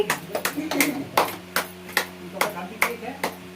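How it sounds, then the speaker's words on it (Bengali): Several sharp hand claps at a child's birthday celebration, spaced about half a second apart in a loose, uneven rhythm, heard close by with low background room noise. "হাততালি কই"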